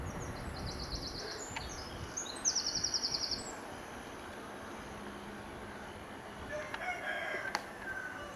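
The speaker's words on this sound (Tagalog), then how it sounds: "Oh, may tilaok." A rooster crows a few times at a distance along a roadside in summer, faint and brief against quiet outdoor ambience.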